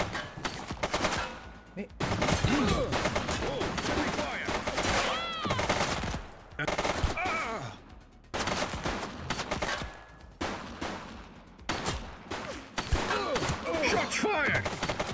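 Rapid, loud volleys of gunfire erupt during a shootout in the police game The Precinct, coming in dense bursts separated by short pauses, with voices talking over parts of the action.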